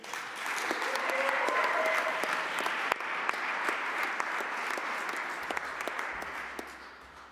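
A graduation ceremony audience applauds steadily, a dense wash of many hands clapping in a hall that holds level for several seconds before tapering off.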